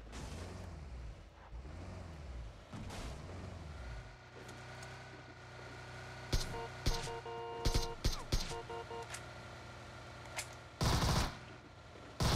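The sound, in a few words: fireworks being set off between the bridge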